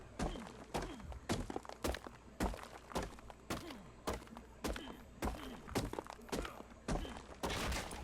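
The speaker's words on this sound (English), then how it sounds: "So all you need to do is destroy this rock." A rock in ARK is struck and broken apart, a series of about a dozen heavy, close thunks and crunching impacts landing in a steady, repeated rhythm.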